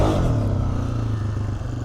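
A Honda CRF300F dirt bike on a desert ride revs with a loud, steady engine drone that sits close and continuous, with no talk.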